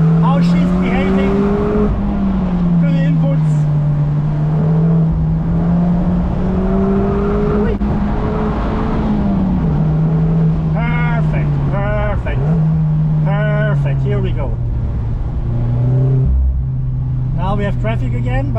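A Mazda MX-5 Miata drives fast along a forest road in the Black Forest National Park in Germany, its engine droning loudly and steadily while shifting pitch through gear changes, with someone talking continuously over it.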